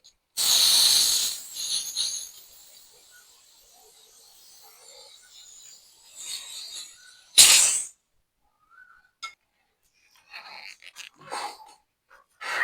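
Refrigerant gas hisses from a charging pipe into a household fridge during gas recharging, a loud broadband burst at the start, then a quiet stretch, another sharp short hiss, and faint intermittent spurts toward the end.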